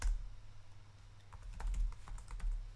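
Someone types code on a computer keyboard, a quiet close run of irregular key clicks and taps with a few heavier strokes, no talking over it.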